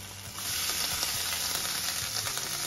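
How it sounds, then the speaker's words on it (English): Butter melting in a pan makes a steady, close sizzle and crackle throughout, with a few soft clicks from stirring, while sweet empanada filling is being made. "We're gonna melt that butter."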